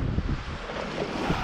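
Steady wind noise rushing over a microphone aboard a sailboat at sea in about ten knots of breeze, with faint wave wash beneath, continuous and fairly even throughout.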